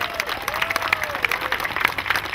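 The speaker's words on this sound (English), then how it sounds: "a big round of applause for our dignitaries that are with us this evening" An audience at an evening opening ceremony applauds for dignitaries, with dense, steady clapping from many hands filling the room at close range and a faint tonal warble underneath.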